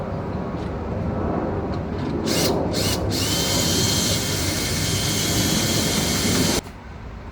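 A power drill bores steadily into a piece of wood, a loud continuous whir with a couple of brief bursts near the start, then cuts off abruptly near the end, leaving quieter room noise.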